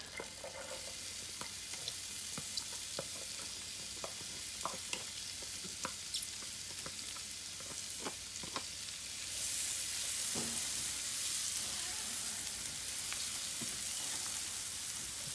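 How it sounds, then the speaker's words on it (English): Onions sweating in melted fat in a pan over a medium-low flame, a soft, even sizzle with occasional utensil taps and stirring, quiet and continuous, the hiss swelling slightly later on. "we're just going to melt that under a medium-low flame so we can sweat our onions out"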